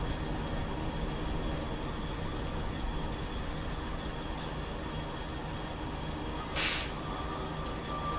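A truck's air brake releasing in SnowRunner, set in the Vologda Region, comes as one short hiss near the end over a steady low engine idle.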